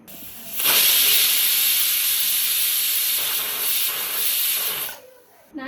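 Steam hissing loudly from a pressure cooker whistle while chicken cooks, a sustained close rush of steam lasting several seconds before it fades out.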